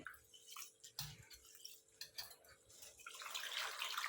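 Rice is rinsed in water in a vessel for steamed salpapad, giving faint, close sloshing and dripping with light splashes that swell slightly toward the end.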